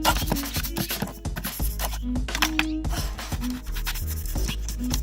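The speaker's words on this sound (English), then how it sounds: "next I'm going to sand this whole thing down" Rhythmic rough scraping strokes of a sanding block on a hard painted prop, repeated back and forth at close range, with faint background music.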